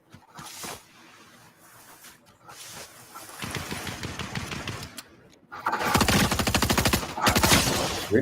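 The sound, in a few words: gunfire from a video game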